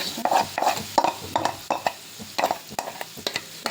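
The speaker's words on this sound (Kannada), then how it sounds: "ಇದು ಟಮಾಟ ಮೆಣಸಿನ್ಕಾಯಿ ಮತ್ತು ಉಳ್ಳಾಗಡ್ಡಿ ಎರಡು ಮೂರು ನಿಮಿಷ ಫ್ರೈ ಮಾಡ್ಕೊರಿ" Tomato, green chili and onion fry in a little oil as a spoon scrapes the pan in a steady, quick rhythm, each stroke close and clear over a soft sizzle.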